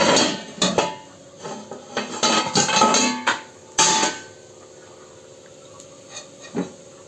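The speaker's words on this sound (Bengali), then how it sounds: "এই যে ঢাকনাটা আমি এখন উঠিয়ে দেবো।" Metal pan lid lifted off a cooking pan in a home kitchen, several sharp clanks and scrapes in quick bursts followed by a quieter stretch with a few light knocks.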